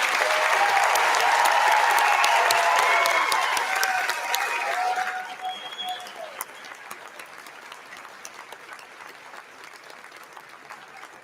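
A large assembly audience applauds students at a high school senior awards ceremony, loud sustained clapping that fades after about five seconds into scattered claps and murmuring.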